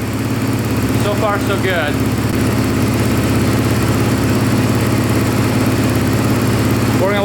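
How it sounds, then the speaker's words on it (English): A 450cc dirt bike engine idling with the idle turned up, a loud steady close-up drone that runs unbroken while someone speaks briefly. "We're going to let this idle for a little bit here"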